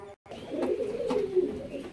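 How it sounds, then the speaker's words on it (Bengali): A pair of rare Chatiyal Lal Shira pigeons coo close by, producing a soft, low, continuous warbling murmur after a brief silent gap at the start. "রেয়ারেস্ট অফ রেয়ার পায়রা বন্ধুরা"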